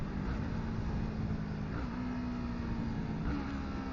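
A Yamaha R3 motorcycle slowing to a stop while downshifting, its engine giving a steady low drone with slight pitch shifts under wind noise, continuous and fairly close.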